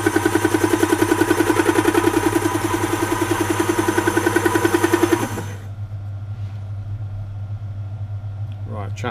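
A lathe cutting tool chatters while skimming a pulley from a 1945 Willys Jeep, a loud rapid pulsing buzz over a steady machine hum that stops abruptly partway, leaving a quieter motor drone.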